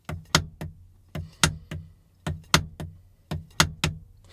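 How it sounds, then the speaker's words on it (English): A snare drum plays repeated three-note groups, a soft tap, a louder accented hit, then another soft tap, cycling evenly with no talking. "So it sounds like this: quiet note, loud note, quiet note."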